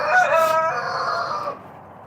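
A white chicken vocalizes close by with a drawn-out, crowing-like call that trails off.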